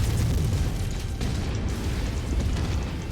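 Missile launch and detonation in MechWarrior 5: Mercenaries, a dense rumbling blast with heavy low-end boom that rolls on for several seconds, loud and close.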